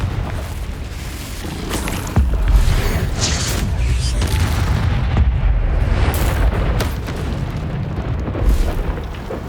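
Repeated blasting-spell explosions in the Hogwarts Legacy video game, heavy booming bursts over a steady roar of in-game noise, loud and close throughout.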